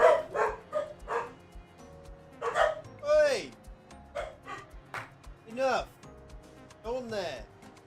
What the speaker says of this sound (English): Silly doggos.